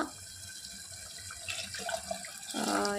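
Soaked-grain water poured from a vessel into a village-style brinjal curry, a close, steady liquid splash that swells toward the end, with no talking.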